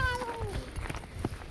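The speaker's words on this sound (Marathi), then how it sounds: "मांजर मांजर" A cat gives one drawn-out meow that slides downward in pitch. It is close and clear at the start, then fades into soft background shuffling and clatter.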